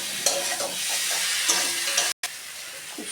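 Fried potato and pointed gourd are stir-fried in spice paste, a close, steady hissing sizzle with soft scrapes and taps of a spatula against the pan and a brief dropout near the end, no voices.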